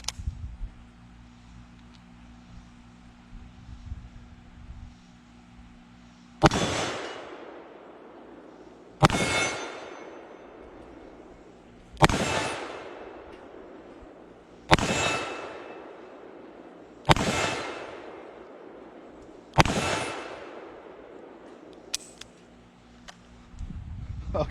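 A lightweight Smith & Wesson 329PD revolver fires MagTech .44 Magnum 240-grain soft-point rounds in six loud, sharp shots. Each blast is spaced a few seconds apart and trails off into a ringing decay, with no talk.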